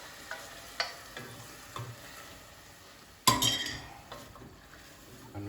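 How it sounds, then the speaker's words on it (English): Potatoes and onions are stirred in a pan over full gas, producing a steady close sizzle with a loud scrape and clatter of the utensil partway through and softer knocks around it. "And we just stir that lot around."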